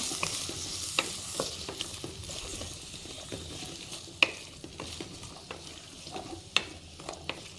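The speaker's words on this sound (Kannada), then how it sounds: "ಮೆಣಸಿನಕಾಯಿ, 1 ಟೊಮ್ಯಾಟೊ, ಇದನ್ನು ಸ್ವಲ್ಪ ಫಸ್ಟು ಫ್ರೈ ಮಾಡ್ಕೊಳ್ಳಿ." Chillies and a tomato fry in a pan for a country chicken curry, giving a constant moderate sizzle broken by frequent ladle scrapes and scattered sharp clicks.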